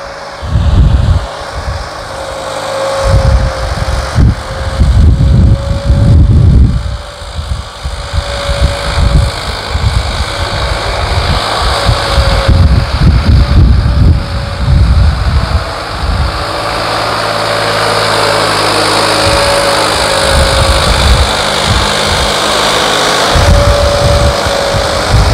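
New Holland 3630 tractor engine with turbo modifications running, a steady close mechanical drone with bursts of low rumbling throughout, loud and without talk.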